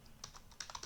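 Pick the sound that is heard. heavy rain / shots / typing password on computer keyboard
typing password on computer keyboard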